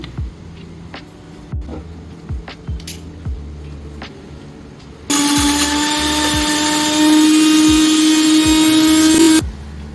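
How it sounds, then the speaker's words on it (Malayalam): A mixer grinder grinding coconut, green chili, ginger and curry leaves for beetroot pachadi, a loud high whirring motor that starts abruptly midway, runs steadily for about four seconds, then stops, after quieter clattering and taps. "ഇപ്പം ഞാനെല്ലാം മിക്സിയിലിട്ട് ഇനി അത് അരച്ചെടുക്കാൻ പോവാണ്."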